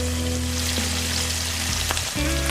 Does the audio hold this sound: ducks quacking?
no